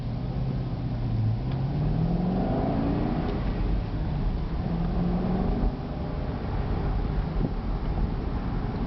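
A 2006 Chevy Corvette, a repaired salvage car, cruising straight at about 42 mph, with a steady engine drone, gentle rises in pitch and road and wind noise heard from inside the cabin, without talk.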